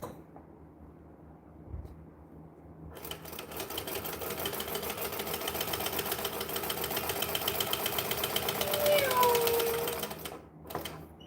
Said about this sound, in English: We are going to top stitch all the edges.